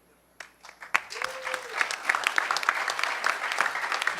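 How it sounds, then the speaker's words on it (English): An audience claps for a hackerspaces talk at a hacker conference, a dense, steady round of applause that swells after a soft start and keeps going loud and sustained. "Huge round of applause for hackerspaces.org."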